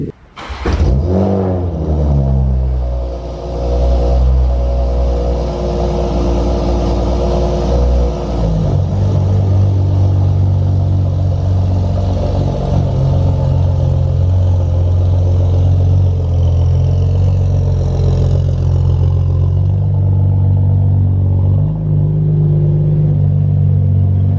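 Car engine with a catless downpipe exhaust idles loudly and steadily, a deep continuous rumble with a brief rev near the start, no talking.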